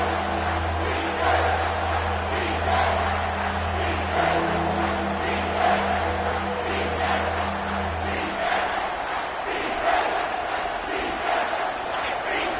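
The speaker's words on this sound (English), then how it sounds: "Here comes this home crowd as the defense tries to get off the field on third down." A home crowd in a football video game roars loudly on third down as the defense tries to get off the field, sustained loud cheering with a low steady drone underneath that drops out toward the end.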